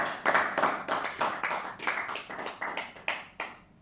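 A church congregation claps in a steady rhythm at a Sunday service, roughly a dozen even, moderately loud claps about a third of a second apart, with no voices.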